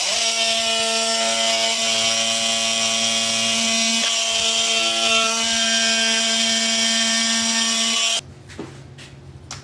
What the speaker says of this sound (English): And then we'll use our multi-tool and cut it into a slot.